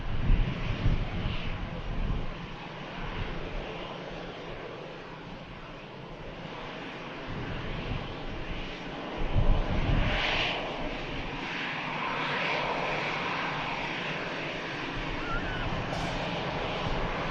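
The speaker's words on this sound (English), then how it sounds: "The next departure is the Orlando flight, Airbus A330-300 series with Virgin Atlantic." Jet engines of a Virgin Atlantic Airbus A330-300 roar steadily at a distance at Manchester Airport on a windy day, with gusts buffeting the microphone.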